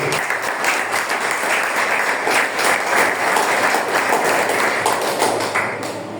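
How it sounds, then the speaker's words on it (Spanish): Members of a church congregation clap together during a Spanish-language sermon, a dense, steady patter of many hands filling the room at close range and holding evenly throughout. "Dale palmas al Señor, aleluya."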